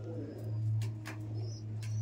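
Andhra pigeons coo softly in a few low, rounded calls, with faint chirps above a steady low hum, no voices present.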